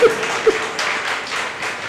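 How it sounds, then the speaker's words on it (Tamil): A seated audience applauds in a steady patter of many hands clapping at moderate volume, filling the short clip without a clear start or finish. "இந்த கைத்தட்டல் எதுக்குன்னு சொல்லட்டுமா?"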